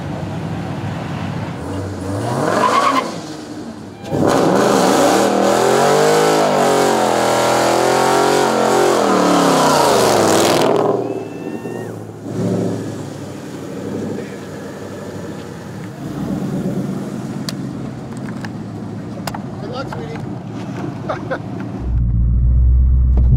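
Street car, a daily driver, launching against a Durango in a small-tire no-prep drag race: a loud engine roar rising through the gears for several seconds, then fading into distant rumble and crowd noise.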